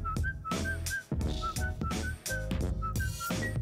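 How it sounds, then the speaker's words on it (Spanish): A person whistles a short repeating melody in brief high notes over loud, dense hip-hop music with a heavy beat, the whistled phrases recurring every half second or so. "Y se pone a silbar."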